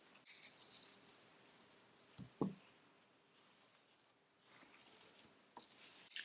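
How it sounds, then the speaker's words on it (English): Scissors cut through ribbon for a craft bow: a couple of quick, quiet snips in a hushed room, with faint handling rustles before and after. "Make sure I cut enough to make the bow."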